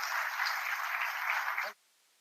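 An assembled audience at a hackathon inauguration ceremony gives the chief guest a steady round of close, even applause that cuts off abruptly, leaving near silence.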